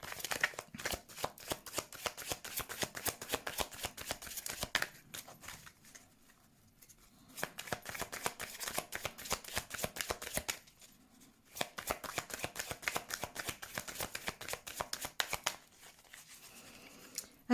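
Tarot cards shuffled by hand for a reading, a dense papery riffling patter in bursts separated by short pauses, close and fairly quiet with no talking.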